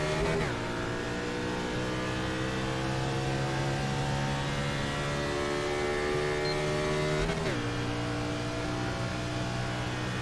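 NASCAR race cars roar off the line together at the start of a simulated race at Kansas, a dense, steady engine drone with rising pitch as they accelerate, then a sharp gear change about seven seconds in, loud and continuous throughout.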